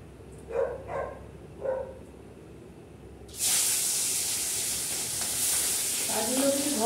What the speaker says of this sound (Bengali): গুলশা ট্যাংরাটা একটু হালকা করে ফ্রাই করে নেব